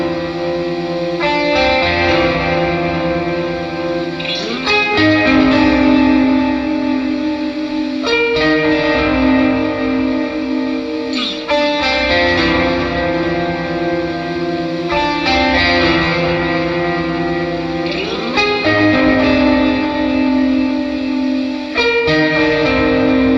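A Telecaster electric guitar with the volume rolled back plays through fuzz pedals, giving a chimey, slightly gritty tone with repeated strummed chords and sustained notes, loud and close, with faint background noise and no talking.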